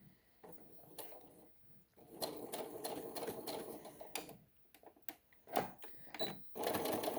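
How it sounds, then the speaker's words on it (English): A sewing machine stitches a hem on a little dress in short bursts, fast close rattling runs broken by pauses, clicks and handling noises, with the machine stopping and restarting several times. "So for some reason my machine is not back stitching automatically right now"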